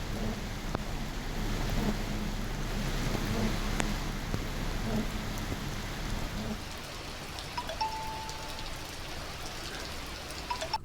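Heavy rain falls in Kodagu as a dense, steady hiss of drops pattering on surfaces, heavier at first and then easing slightly, with scattered sharp drips and no voices.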